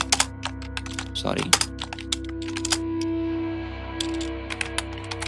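HTML code is typed on a computer keyboard in quick, irregular clicking bursts, close and clear, with steady hum underneath and a voice talking briefly over part of it.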